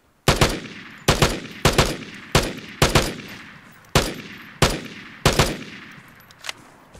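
Loud, sharp gunshots from the video game Vigor, about nine separate reports in a fairly even rhythm, each with a short decaying tail and no talk over them.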